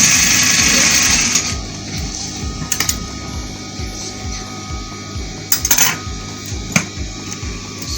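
A sewing machine runs a lock stitch on fabric for men's African tops, a fast rhythmic needle chatter that starts loud, then slows into intermittent bursts with light clicks of handling.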